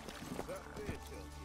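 Horse hooves clip-clop in the video game The Witcher 3 as the horse moves at pace, soft and brief beneath a continuous spoken voice.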